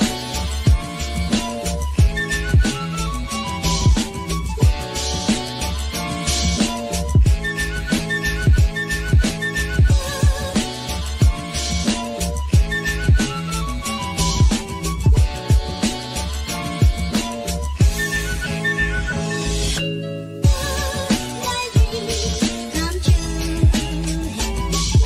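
A whistled melody rides over a busy, punchy music bed in the intro of an ACC college sports podcast, running continuously and loud for about twenty-five seconds with a brief dropout near the end.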